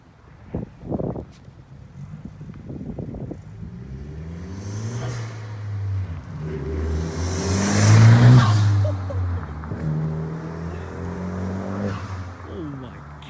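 A 2020 Honda Civic Si fitted with a PRL cold air intake revs up, engine note climbing to a loud peak and falling back, with brief talk at the start.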